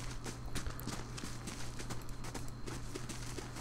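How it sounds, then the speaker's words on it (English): Horses' hooves clip-clop in an outdoor area of the fantasy video game Pillars of Eternity, a steady patter of light repeated hoof steps running throughout over a constant low background hum, with no talking. "There's some horses."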